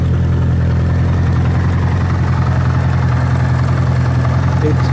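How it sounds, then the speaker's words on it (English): Restored 1980 Honda Goldwing GL1100 engine idling low on a cold day with the choke fully on, a steady, even low-pitched hum and vibration, loud and close, with no change throughout. "I've got the choke all the way on, and I've got this idle down."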